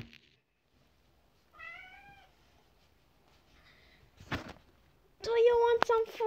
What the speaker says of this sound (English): This is my cat, Negrutsu.